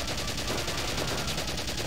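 Gunfire in the tactical war video game Valkyria Chronicles during an urban battle, a dense, steady crackle of shots running through the whole moment at even loudness with no voices.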